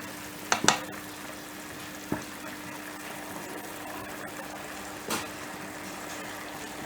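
Meat and prunes cook in a pot under a soft, continuous sizzle, while a utensil stirs through them and scrapes the pot in a few sharp clicks.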